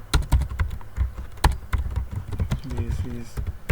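Rapid, uneven clicking of keys on a computer keyboard while HTML heading tags are typed, close and fairly loud, with a voice briefly speaking near the end.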